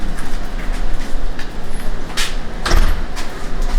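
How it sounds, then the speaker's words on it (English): A door in a welding and fabrication shop swings shut, with a loud solid thud near the end over a rumbling, noisy room background. "I'll close the door behind you."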